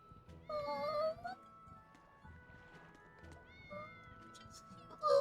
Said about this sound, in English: Just little kitties.